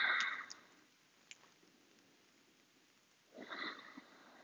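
Slow nasal inhalations during a yoga breathing exercise, soft and close, with a quieter pause between two audible breaths and a few faint clicks.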